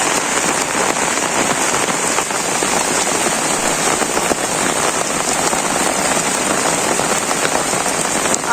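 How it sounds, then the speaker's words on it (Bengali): Steady rain pours down on a Bangladeshi village, a continuous dense patter of drops on surfaces at close range, unbroken and even throughout with no voices. "বৃষ্টি নামছে"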